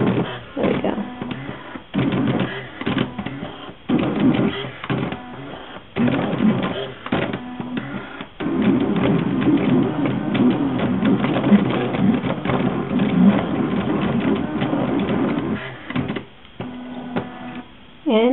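A Slice cutting machine runs steadily while cutting a design, a continuous buzzing mechanical whir with brief dips and stops, moderately loud and close throughout.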